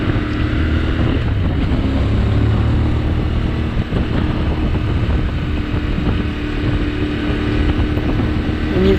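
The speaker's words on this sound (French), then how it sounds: "On est sur un moteur bicylindre de 450 cm3." A CF Moto 450 MT with a 450 cc twin-cylinder engine rides steadily, its low engine drone continuous and loud beneath heavy wind buffeting, with no talk.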